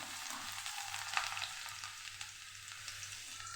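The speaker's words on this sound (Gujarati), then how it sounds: "અહીંયા આપણે લસણ ઉમેરશું એને સરસ આપણે સાતડી લેવાનું છે" Garlic sautéing in hot oil in a pan for garlic puffed rice, a steady close sizzle and crackle with small spatters throughout and no talking.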